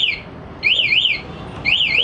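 A Yamaha Aerox scooter fitted with a CR7 anti-theft alarm wails in a rising-and-falling electronic siren, two loud warbling bursts separated by a brief pause, close by with no talk.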